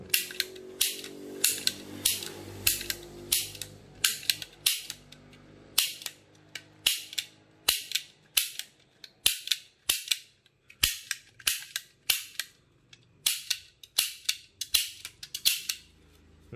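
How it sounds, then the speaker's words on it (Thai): A toy cap gun firing caps, sharp loud cracking pops at irregular intervals, sometimes in quick pairs or triplets, each followed by a brief mechanical click, with no talking. "เดี๋ยวลอง นิ้วจวกเข้าไปปุ๊บ ยิงโปงโปง โปง โปงโปง"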